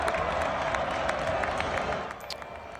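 A basketball arena crowd in Storrs roars and applauds during a UConn game, a loud, steady wash of cheering and clapping that eases off slightly toward the end, with a voice faintly underneath.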